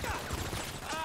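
Gunfire in the game GTA Online, a burst of rapid shots crackling through a busy, dense mix over a second.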